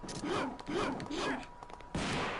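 Dante's Fireworks shotgun move from Devil May Cry 2 going off in a quick run of three rhythmic blasts with whooshing spin, then a final sharper shot, fairly quiet and with no talk.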